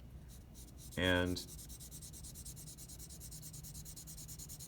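A charcoal blending stump rubs across paper in a steady soft scraping rhythm of repeated strokes, close and quiet; a short spoken word briefly cuts in near the start.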